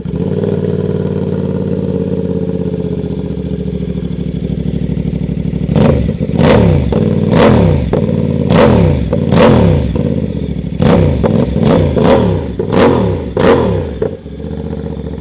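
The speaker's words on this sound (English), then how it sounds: "We have to start it up with no exhaust silencer on." Voge DS 800 X Rally motorcycle engine running with no exhaust silencer, a loud close idle that breaks into a series of sharp revs, about ten throttle blips in quick succession.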